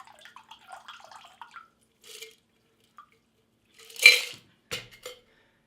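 Liquor poured from a bottle into a row of shot glasses behind a bar gives short, separate trickles and drips, then a louder splash and a couple of quick pours near the end, with no talk.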